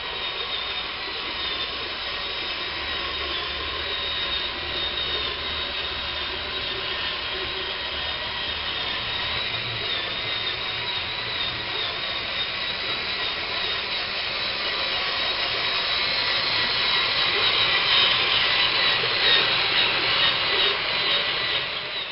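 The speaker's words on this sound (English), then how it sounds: "And now for some motorized rolling action." Toy motor of a Deluxe Titanus Carrier Zord rolling along, a steady whirring drone that holds for over twenty seconds and grows slightly louder toward the end, with no talking.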